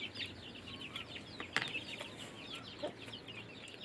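Backyard chickens kept at a rural Thai home cluck in quick soft bursts, fairly faint and a little distant, with a few louder knocks and rustles close by.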